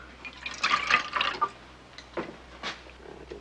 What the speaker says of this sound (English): Go on, pour.